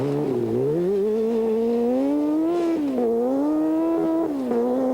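A 600 Suzuki off-road racing motorcycle of about 100 horsepower revs hard as it takes off, its loud engine note climbing, dipping and climbing again through several gear changes, up close and alone.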